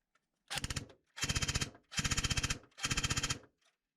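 An Ares M45 CQB airsoft rifle fires on full auto from an 11.1 battery, four rapid, loud, close bursts of sharp rattling shots, each about half a second long with brief gaps between.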